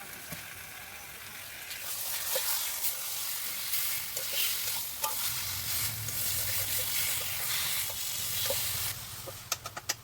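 A fish head is stirred into taro leaves frying in a pan with a little sugar, giving a steady loud sizzle and hiss. Scraping stir strokes cut in throughout, and a few sharp utensil clicks come near the end.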